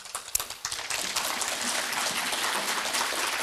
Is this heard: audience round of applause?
yes